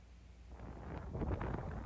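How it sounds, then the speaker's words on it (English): Steady wind buffets the microphone on a hilltop near Blair Atholl in Highland Perthshire, Scotland, a low rumbling roar that grows slightly stronger toward the end, with no voices. "It's also a bit windy as well."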